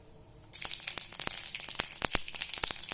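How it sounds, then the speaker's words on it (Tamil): Mustard seeds and three chillies spluttering in hot oil for mango thokku, a sudden loud burst of dense crackling and popping that keeps going with sharp irregular snaps, close up and with no talk. "கடுகு பொரிஞ்சிருச்சு"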